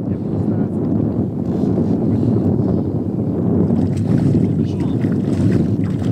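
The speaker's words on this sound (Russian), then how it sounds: "А, да, двигатель был включен." A boat engine runs steadily throughout, a continuous low drone with wind rumble on the microphone, on a river expedition fishing for taimen.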